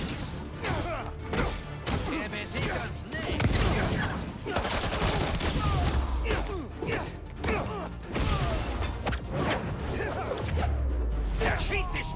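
Game gunfire aimed at Spider-Man in the Spider-Man 2 video game, bursts of shots and thuds recurring through a busy action scene, mixed with talk and other effects.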